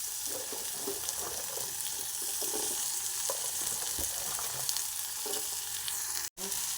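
Spices frying in a pan for egg biryani, a steady soft sizzle with occasional stirring scrapes and a brief drop near the end, no talk.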